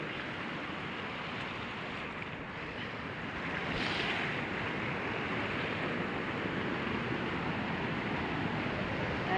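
A large river flowing, a dense continuous rushing roar of water that swells slightly midway and stays loud and steady throughout.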